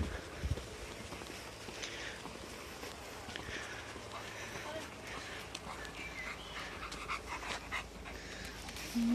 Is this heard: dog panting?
yes